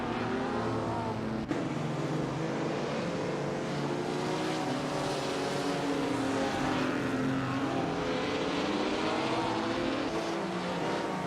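Several race cars lapping in an AI racing simulator video game featuring 1950s sportscars, a steady, continuous engine drone with shifting harmonic whines that stays loud throughout, with no voices.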